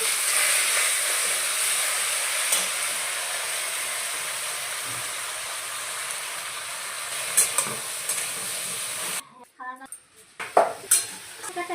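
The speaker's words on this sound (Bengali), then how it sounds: "তেজপাতা তেলে যাবে ছক করে, তেজপাতা দিয়ে দিলাম, পাঁচফোড়ন দিয়ে দিলাম, আলুটা দিয়ে দিলাম" Potatoes frying in oil with bay leaf and panch phoron give a steady, loud broadband sizzle, followed near the end by a few sharp clinks of a utensil against the pan.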